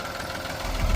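A tractor engine idles while warming up, with a steady low rumble and faint knocking, building slightly louder toward the end.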